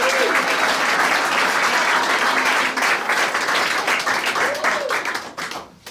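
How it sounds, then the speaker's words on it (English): A live concert audience claps in steady, full applause, loud and close, with brief sung or spoken tones over it before it tapers off at the end. "please yourselves, give yourselves a round of applause"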